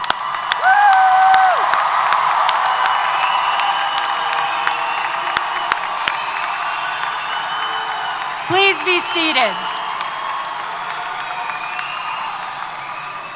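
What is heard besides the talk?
audience applause and cheering for graduates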